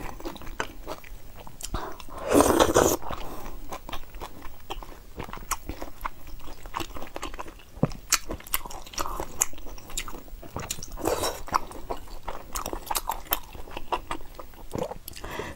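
Close, crunchy chewing and biting of pork belly with mixed noodles repeats steadily, with louder crunches now and then and no talking over it.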